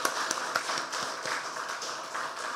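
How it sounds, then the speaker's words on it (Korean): Applause from a church congregation at a men's fellowship gathering after choir and vocal team performances: dense, steady clapping from many hands throughout, moderately loud and close, with no talking over it. "우리 뜨거운 박수 다시 한번 해드리겠습니다"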